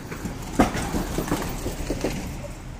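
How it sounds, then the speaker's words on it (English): A loud truck passes along a street in Japan, a heavy low rumble with scattered clattering knocks that swells briefly and then holds steady. "Oh God, that truck is so loud."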